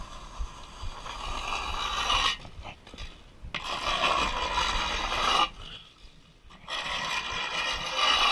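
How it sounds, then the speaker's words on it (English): A trowel scrapes and rasps across fresh stucco on a lath wall in repeated close strokes, with two short pauses between the bursts. "Just scraping it with the trowel"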